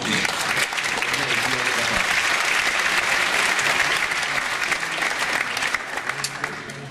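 An audience at a bird festival talk breaks into loud applause, many hands clapping densely with some crowd noise mixed in, holding steady before easing slightly toward the end.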